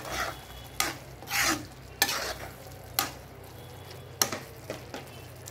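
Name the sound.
stirring fried okra into curry in a pan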